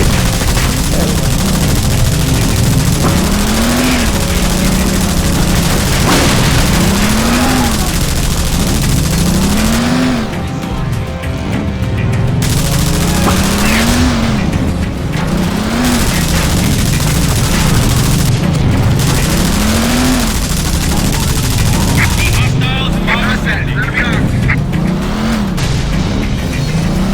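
Sustained automatic gunfire and explosions from the video game Frontlines: Fuel of War, loud and continuous over a rising and falling engine drone, with bursts stacked densely and brief lulls in between.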